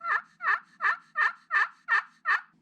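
A wooden turkey friction call scraped with a striker mimics a turkey, producing seven evenly spaced, loud, close yelping notes in a steady rhythm with nothing else heard.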